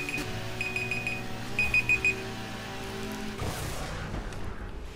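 An in-game alarm in the racing game Burnout Paradise gives a string of quick, evenly spaced high electronic beeps, pausing and then returning in a short burst over a steady engine drone, before crash-like noise takes over.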